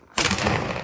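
A single sharp firecracker bang bursts out abruptly on Diwali, followed by a rumbling, crackling tail that slowly fades.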